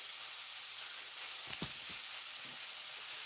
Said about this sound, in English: You don't like the sound of frying bacon in the background?